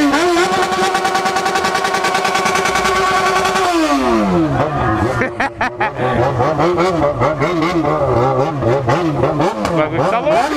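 Yamaha XJ6 motorcycle engine held at a high, steady rev, then dropping sharply and blipped through repeated rising and falling revs, very loud and close, no talk over it.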